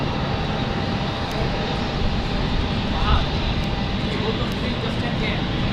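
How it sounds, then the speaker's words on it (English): Broadband jet aircraft engine roar from a Boeing 747 overhead near London City, a steady continuous rumble filling the whole clip with a slight swell near the middle, heard over faint radio chatter in the background. "we've got 747 in the sky"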